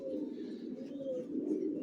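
Johnson long racer pigeons cooing softly in a loft, a low continuous murmur of coos with no voices.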